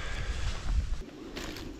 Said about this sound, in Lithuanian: vėjas didelis